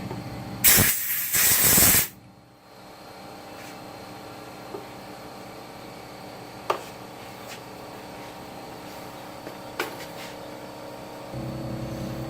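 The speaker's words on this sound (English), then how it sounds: "I'm trying to shoot a little air in there, try to get rid of that gunk around the window" Compressed air from an air hose blasts loudly in a short, broadband hissing burst near a motorcycle window, followed by a quieter steady background hum with a few faint clicks.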